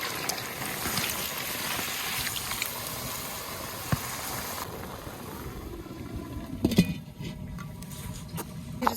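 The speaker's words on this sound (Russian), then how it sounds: "Добавить 100 мл воды и 100 мл бульона" Water and broth are poured into a kazan while cooking kazan-kebab in a taiga cabin: a steady, close splashing patter for several seconds, then a quieter trickle with a few small knocks.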